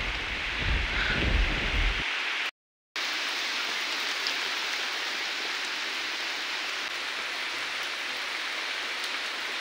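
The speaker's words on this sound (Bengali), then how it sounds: "বৃষ্টিটা আরো বাড়ছে।" Heavy rain pours steadily on a hillside near Murguma Dam, a dense, continuous hiss with some low rumble early on and a brief dropout to silence partway through.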